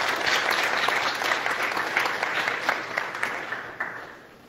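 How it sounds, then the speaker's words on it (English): A church congregation applauding during Sunday worship after a baptism, a broad, steady wash of clapping that carries on for several seconds and then fades away toward the end. "Another round of applause is appropriate."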